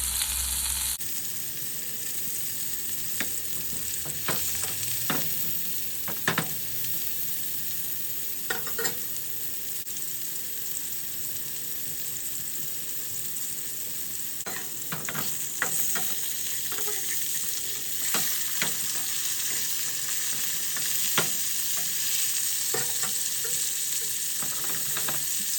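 Burger patties, made as Krabby Patties, sizzling steadily in a pan, with a constant close frying hiss and occasional small pops and crackles over a long stretch.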